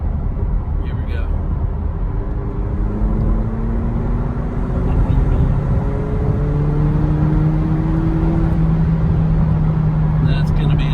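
A McLaren sports car pulls hard on an open road, its engine note rising through gears in a steady whining drone heard from inside the cabin, loud and continuous, with a driver talking at moments.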